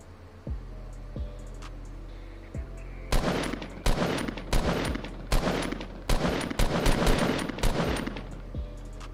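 Bursts of gunfire from the video game Fortnite Battle Royale, a few tonal game cues at first, then rapid clusters of loud shots crackling across the second half with brief gaps between bursts.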